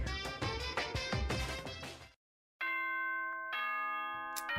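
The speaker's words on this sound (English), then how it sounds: "Ding dong." Video game Danganronpa plays its chime, two clear bell-like ding-dong tones ringing out after a burst of loud music and a brief gap, with the second tone sustaining to the end.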